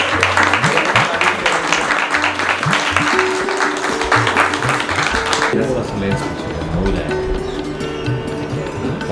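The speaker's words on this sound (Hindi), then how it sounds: "तालियां रुकनी नहीं चाहिए।" Dense, steady applause from a crowd at a retirement farewell for a train manager, loud and continuous under voices and some tonal sounds, thinning slightly in the second half.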